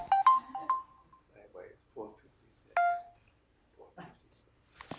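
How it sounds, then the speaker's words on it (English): A mobile phone goes off during a speech on carbon pricing, with a short burst of bright electronic tones and a later single beep. The speaker keeps talking softly between the tones. "Oh my gosh, I didn't shut off my phone."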